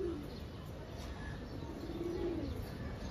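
A cumin-throated (jira-neck) pigeon coos softly and steadily, fairly faint over a low background rumble, with no talking.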